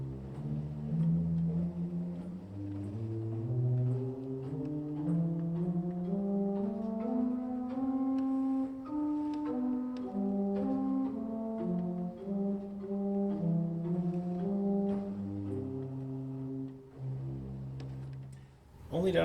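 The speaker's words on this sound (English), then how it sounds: "And then 8-foot cello that is an open wood stop actually." An 1890s Schuelke pipe organ plays on its 8-foot cello open wood stop, sustained mellow flute-like tones moving in a slow melodic line with steady loudness throughout, no voices present.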